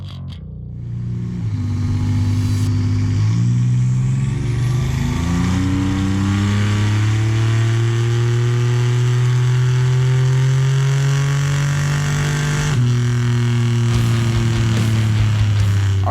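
A 1987 Buick Grand National with a turbo V6 pulls hard on a dyno, its loud engine note climbing steadily through the revs, then shifting once and continuing to rise, with no voices.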